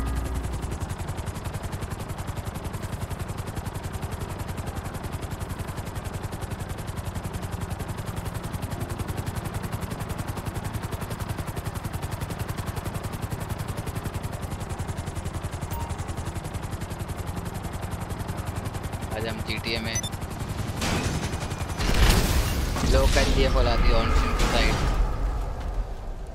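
In a video game, a helicopter's steady rotor whir fills the scene before a burst of loud gunfire and crashing impacts near the end, with someone talking over it.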